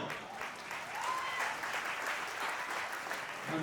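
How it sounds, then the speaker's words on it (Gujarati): Steady applause from the audience at a Leva Patidar community gathering (Sneh Milan) in Navsari, a dense, even wash of clapping that holds from start to finish. "એક વખત લેવા સમસ્ત લેવા પાટીદાર સમાજ માટે આપણે તાળીનો ગડગડાટ કરી દઈએ"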